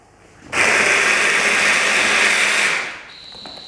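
A food processor spins pesto made with cashew nuts in one loud, steady whirring burst of about two seconds, starting abruptly and winding down to a fainter whine.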